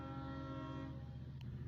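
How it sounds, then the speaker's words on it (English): LIRR locomotive sounding its K5LLA chime horn, a sustained multi-tone blast held steadily through the whole clip at close range. "And we have a K5 LLA chime on this engine."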